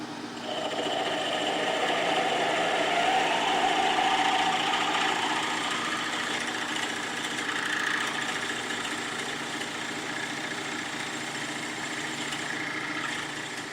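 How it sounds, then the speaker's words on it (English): A drill runs steadily, boring through steam engine frame bearings with a 7/32 bit: a continuous close whine and hum with slight shifts in pitch, no talking. "Now we'll enlarge the holes with a 7/32 bit."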